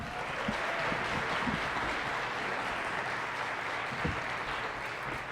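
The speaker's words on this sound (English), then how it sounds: "One more round of applause for those improv solos." A school jazz night audience in a concert hall gives steady, fairly distant applause after student improvised solos, a continuous wash of clapping with no talk.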